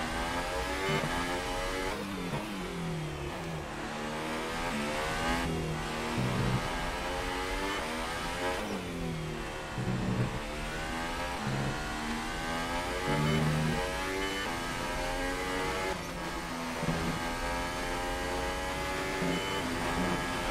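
Formula 1 race car engines in F1 2018 at the Singapore Grand Prix scream continuously and loudly through the whole stretch, their pitch rising and falling in repeated sweeps as the cars accelerate and shift gears, with no voices.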